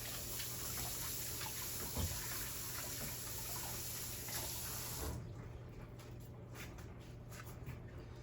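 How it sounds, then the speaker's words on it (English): Hands are washed under a running kitchen tap after cubing beef, the water pouring steadily and close with splashing, then quieting as the flow changes near the end. "Let me wash my hands again."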